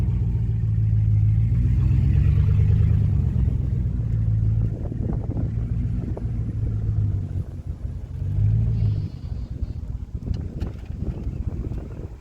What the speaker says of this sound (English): I'm being lazy and driving